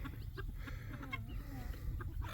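Young ranch-raised chickens from this spring's batch clucking softly in the background, with low rumbling noise underneath and a voice speaking over them.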